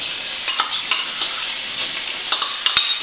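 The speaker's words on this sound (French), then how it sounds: "On remélange un peu rapidement" Tomato paste stirred into a sizzling sauce in a pan for penne alla vodka, a steady frying hiss with a few scraping strokes and clicks of a utensil against the pan.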